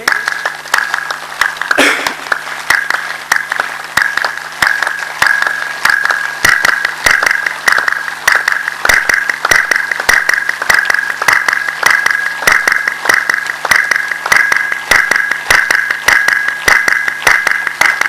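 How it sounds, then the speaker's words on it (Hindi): Hands clap firmly in a steady repeated rhythm during a morning yoga session, sharp regular claps continuing for many beats with a faint background hum. "30 दफा जम के ताली बजाइए"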